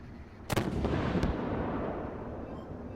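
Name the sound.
tank cannon firing in video game Armored Warfare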